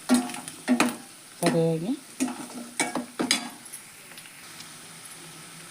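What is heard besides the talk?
potato gravy frying in oil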